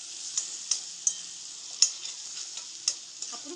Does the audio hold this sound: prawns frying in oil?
yes